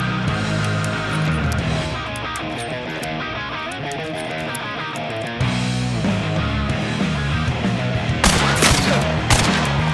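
Gunfire in the video game Hunt: Showdown, a dense barrage of loud shots and bursts layered over busy game sounds, with sharper cracks clustering toward the end.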